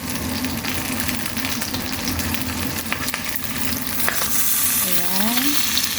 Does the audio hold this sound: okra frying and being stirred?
yes